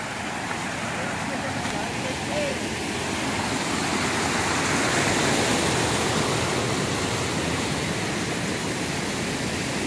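Swiftly rushing river water at a steep drop in a natural spot in Trimurjo, Central Lampung, a steady loud broadband roar filling the whole stretch without break.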